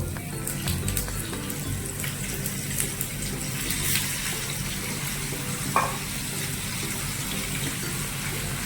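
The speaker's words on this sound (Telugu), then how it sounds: "చికెన్ కూడా ఇందులో ఫ్రై చేద్దాం" Chicken leg pieces frying in hot oil with a steady, moderately loud sizzle and bubbling, with occasional clatter as the pieces are moved in the pan.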